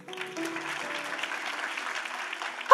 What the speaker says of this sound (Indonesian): berikan tepuk tangan dong